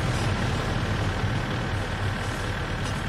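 A tractor engine in the video game My Summer Car runs with a steady, loud low rumble and broad mechanical noise, continuous and unbroken throughout.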